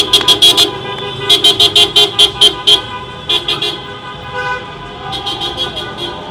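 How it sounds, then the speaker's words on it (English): Repeated car horns honking in short bursts on a busy Brooklyn street in Bedford-Stuyvesant, loud and close, with a rapid run of toots, a second volley, then scattered horn blasts over traffic noise. "there's beautiful honking happening today"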